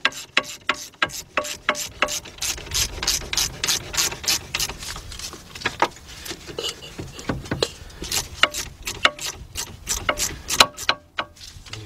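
A ratchet driving a bolt into the front right wheel bearing hub of a 2008 Audi A6 Quattro 3.2, giving rapid, regular clicking bursts close to the mic with short pauses between strokes.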